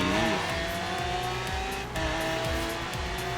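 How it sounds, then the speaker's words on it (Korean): A Ferrari engine in the racing game Forza Horizon 3 revs up and shifts, with pitch climbing in sweeps. It is loud and close, with tire squeal and a brief dip before the engine picks up again. "페라리"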